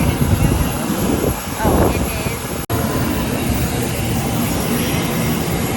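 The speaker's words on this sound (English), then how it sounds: "That is Michael Jordan's plane." A private jet at an airport roars loudly and steadily with engine and wind noise, broken by one brief dropout.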